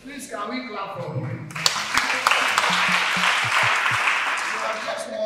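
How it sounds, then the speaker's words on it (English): An audience claps for a pupil at a Lagos State primary school maritime education event, with broadband applause starting about a third of the way in and continuing steadily, over talking voices at the start. "Please, can we clap for you?"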